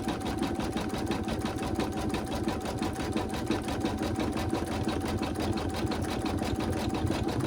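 A close sewing machine stitches a daffodil coaster at a fast, even pace, its rapid mechanical chatter running without a break throughout.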